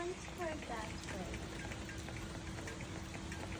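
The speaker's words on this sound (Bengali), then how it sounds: "দেখো কি বৃষ্টি শুরু হয়ে গেছে গা।" Light rain beginning to fall outdoors, a soft steady patter of drops spread evenly across the clip, faint and continuous, with a few voices in the background.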